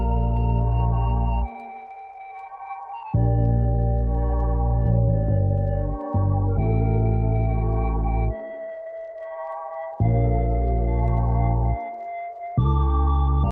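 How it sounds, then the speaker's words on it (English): A dark trap synth melody with deep synth bass plays in sustained, shifting chords, the low bass dropping out briefly between phrases; steady, loud and without drums. "That's it for the melody and the synth bass."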